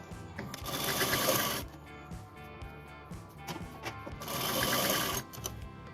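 A sewing machine stitches the front part of a kurti in two close, loud bursts of rapid mechanical chatter separated by quiet pauses and small handling sounds.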